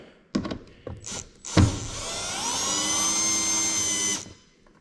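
A power tool loosening a bolt on the fiberglass cab of a Kenworth K100E cabover during restoration: a few clunks and knocks, then a sustained whirring motor drone of about two seconds that stops abruptly.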